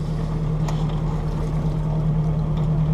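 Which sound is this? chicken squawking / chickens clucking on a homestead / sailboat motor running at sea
sailboat motor running at sea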